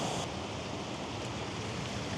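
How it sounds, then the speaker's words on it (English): A waterfall on a walk in Wales roars close by, a loud, steady wash of falling water that fills the whole stretch without a break, with no voices. "The waterfall's quite loud, obviously."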